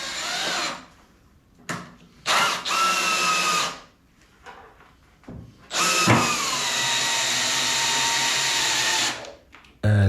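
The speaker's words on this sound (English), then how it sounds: "And now it's time to screw our top down." A cordless drill whirs in several bursts, short pulses and then a long steady run, driving screws into a workbench top, close up with no talking.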